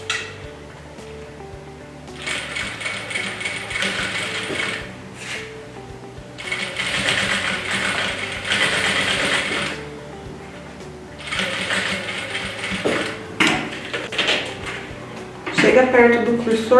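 A sewing machine stitches a simple clutch bag in three separate runs of steady, close whirring, each a few seconds long, with short pauses between them.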